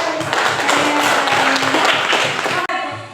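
Classroom applause during a biology teaching session, a dense wash of clapping from a group of students that runs steadily and fairly loud, with faint voices underneath and a brief drop near the end.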